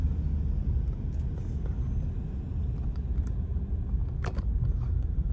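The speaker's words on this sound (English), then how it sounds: "Y'all see all this traffic?" Heavy road traffic rumbles low and steady as heard from inside a car, a continuous engine and tire drone with faint clicks and ticks, no talking.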